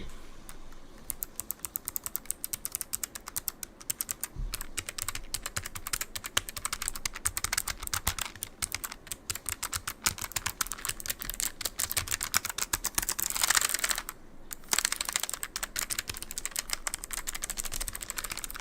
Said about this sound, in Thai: มาลองฟังเสียงตัวนี้กันก่อนนะครับ เป็นตัวคลิกกี้